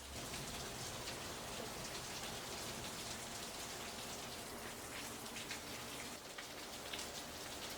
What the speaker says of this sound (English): you can probably hear the rain dropping back there. So it's coming down pretty decent.